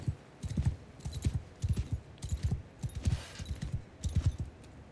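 Hooves of charging horse archers in Mount & Blade II Bannerlord pound in a rapid, irregular clip-clop from several mounts at once, close and steady for the whole stretch with no talk over them.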